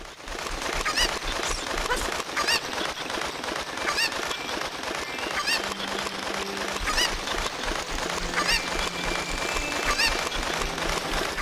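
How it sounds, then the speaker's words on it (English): Cuccos in the video game Ocarina of Time give repeated loud honking clucks in a rapid irregular series, layered over continuous game background sound throughout. "I don't need this chicken anymore."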